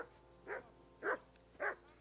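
Dog in Kingdom Come: Deliverance 2 giving three short, evenly spaced barks, fairly close and clear, over a faint steady background hum.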